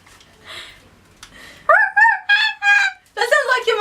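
A person imitates a kookaburra's laughing call with loud, rising and falling whoops in short bursts, after a few soft murmurs.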